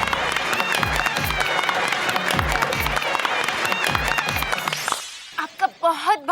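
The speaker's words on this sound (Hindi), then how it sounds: "तालियां।" Studio audience at a comedy show breaks into loud, dense applause and cheering, with rhythmic clapping throughout before it cuts off abruptly and a voice begins speaking.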